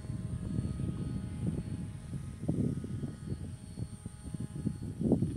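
A small Hobby King RC airplane's electric motor runs at half throttle, a faint, steady buzzing whine with slight fluctuations and some wind-like rustle, without any talking.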